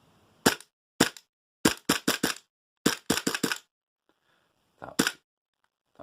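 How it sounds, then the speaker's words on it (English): Tokyo Marui FNX-45 airsoft pistol firing with a suppressor fitted: sharp, close snapping shots, first singly and then in quick bursts of two to four, with short pauses between, ending in a few last shots. "shooting with the suppressor on."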